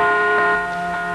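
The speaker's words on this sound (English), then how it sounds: "bells rang out, sirens blared, horns honked" Church bells peal in celebration on Inauguration Day in Washington, D.C., January 1981, a steady sustained ringing with layered, resonant tones that hang in the air throughout and no talk over them.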